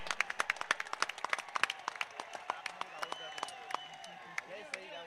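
Spectators clapping at the end of a village cricket match: scattered, uneven claps that fade into sparser clapping, heard under a commentator's voice.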